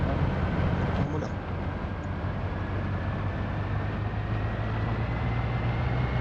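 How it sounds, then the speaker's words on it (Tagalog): A helicopter flies in the Roblox video game, a steady, loud, rumbling drone with a low hum that holds without a break for about six seconds. "Helicopter."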